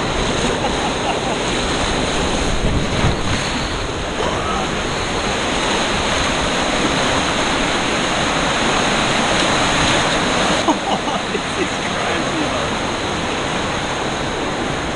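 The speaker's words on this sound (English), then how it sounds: "That's what you call rapids." Rushing rapids on a water park ride at Aquaventure, Atlantis The Palm in Dubai, a loud continuous roar of churning water close by for the whole stretch.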